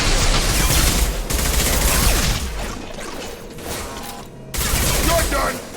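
Heavy gunfire in Mass Effect 2 as shots pour into hostile mechs, loud overlapping bursts and impacts with a brief lull before the firing resumes, voices shouting over the fight.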